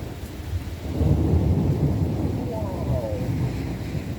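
A deep, rolling thunder rumble from a large thunderstorm builds about a second in and lingers, with rain and wind buffeting the microphone in the background.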